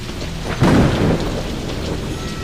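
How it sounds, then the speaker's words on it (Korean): A rumbling thunderclap swells over steady rainfall during a stormy night, building loudly for about half a second before fading back into the continuous patter of rain. "천둥번개가 치는 소리에"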